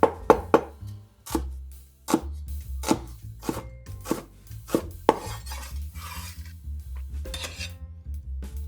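A knife cuts an onion into strips on a board, a series of sharp, close chopping knocks in an uneven rhythm that gives way to softer slicing scrapes near the end, with no talking.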